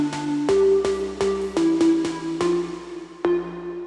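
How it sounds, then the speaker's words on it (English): Synth organ chords layered with a noise oscillator, giving a breathy hiss under each held chord; several chord changes with crisp attacks, the last one ringing out and fading. "And I've just added a bit of noise with a noise oscillator."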